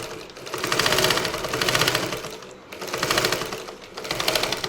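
A sewing machine stitches a baby frock in loud, fast, continuous runs. Three or four bursts of rapid needle clatter are separated by short pauses, close and alone without talk.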